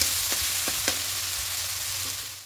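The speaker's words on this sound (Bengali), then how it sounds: "টক দই থেকে একটা তেল ছাড়তে শুরু করবে, ততক্ষণ পর্যন্ত মশলাটা খুব ভালো করে কষিয়ে দিতে হবে।" A spice masala with sour yogurt cooks down in a hot pan for an egg curry, a loud continuous sizzle close by, with three quick spatula scrapes early on.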